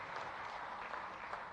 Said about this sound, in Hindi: जोरदार तालियों से हम